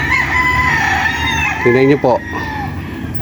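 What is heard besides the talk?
game farm chickens and roosters crowing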